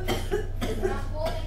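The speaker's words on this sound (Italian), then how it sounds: "C'è la mia che sta tossendo." A woman coughs in repeated short bursts, several hacking coughs in a row close by, with room noise and a low hum underneath.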